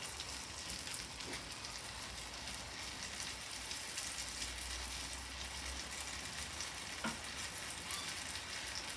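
Pork ribs simmering in a pan, cooked Italian style, make a faint, steady bubbling sizzle throughout with no voices.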